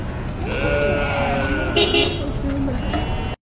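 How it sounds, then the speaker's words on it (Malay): Sheep bleat amid busy crowd and traffic noise at a livestock market in Makkah during Hajj, with honking vehicles nearby and people talking throughout. "Orang cakap kambing kampung ataupun biri-biri yang ni."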